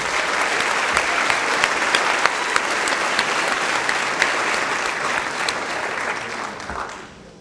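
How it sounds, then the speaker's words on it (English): Loud, sustained applause from a high school academic awards audience honoring a departing staff member, dense clapping with a few sharper claps standing out, tapering off at the very end. "give Mr. Godfrey a round of applause"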